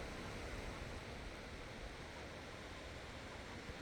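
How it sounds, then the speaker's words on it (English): Steady broadband rush of Camp Creek and small side streams flowing through wet January ground near the Klamath River, a constant watery hiss with no pauses, fairly faint and even throughout. "I can see little streams coming down into the creek, or little drainages, I guess you could say."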